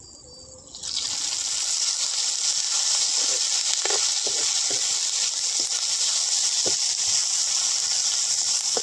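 Onions frying in oil in a village Konkan kitchen, a loud steady sizzle that bursts in after a quiet start and holds evenly, with occasional soft clinks and stirring sounds underneath.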